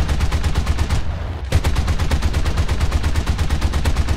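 Rapid cannon and machine-gun fire in the War Thunder tank game, a dense, loud, steady stream of shots that pauses for about half a second before resuming just as fast until the end.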